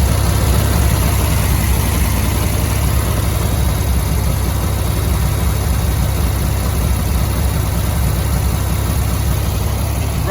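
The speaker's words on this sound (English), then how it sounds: "I've not had it running and idling since I put a new carb on it" An air-cooled VW Beetle engine idles on a new carburetor, a loud, steady low drone with constant throbbing and no one speaking.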